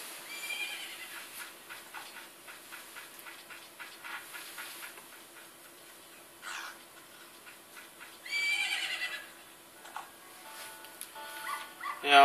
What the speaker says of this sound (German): Ist das nicht dein Pferd?